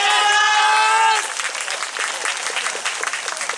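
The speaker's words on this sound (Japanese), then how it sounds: "それぐらいの音量で拍手 OK でございますからね" A loud, drawn-out voice opens, then an audience at an outdoor Soran dance festival main stage breaks into lively, sustained clapping that carries on to the end.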